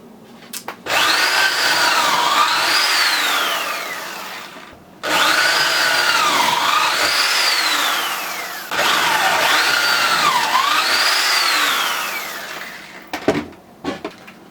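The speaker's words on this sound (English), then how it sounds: "I'm taking this sweet tool called a Kreg jig, and I'm drilling these super cool angled holes" Three long bursts of a drill boring angled pocket holes through a Kreg jig into wood for a guitar speaker cabinet, each whine rising and falling in pitch, separated by short pauses, close and loud, followed by small clunks.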